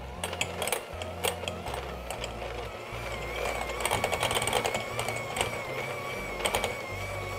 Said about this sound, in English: just use my hand mixer to just get that smooth